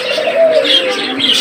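Doves and pigeons, including Australian doves, coo close and loud in a short burst of overlapping calls, with no talking.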